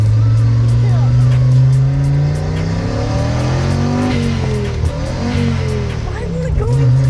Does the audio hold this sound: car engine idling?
yes